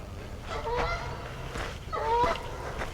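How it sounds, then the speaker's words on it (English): Geese honk outdoors at an archery range during longbow practice, two short bursts of nasal calls at moderate distance, about a second apart. "Freaking geese."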